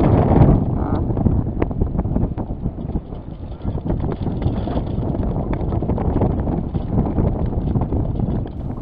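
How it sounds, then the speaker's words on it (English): Strong wind at sea buffets the microphone aboard a sailboat in a constant low roar, with rumbling gusts and water sloshing underneath. "So the winds really start to pick up"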